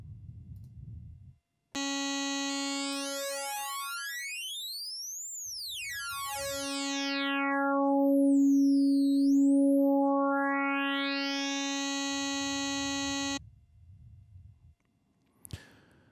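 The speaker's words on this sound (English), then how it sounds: "the effect of formant shift has a much smoother sound than traditional oscillator sync does" An Access Virus synthesizer plays a bright sustained tone through its grain formant oscillator. A buzzy, harmonically rich note sweeps up and back down in smooth glides for about eleven seconds, with short noisy gaps before and after.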